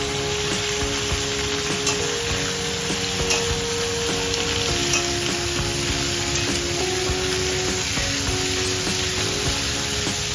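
Potatoes and pointed gourd with panch phoron frying in hot oil, a steady, loud sizzle that holds evenly throughout, with a faint tonal hum running beneath it.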